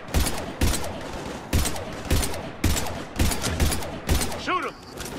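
Rapid bursts of gunfire from the video game Mass Effect 3, with repeated sharp volleys in steady rhythm, loud and close, followed by a brief mechanical whine at the end.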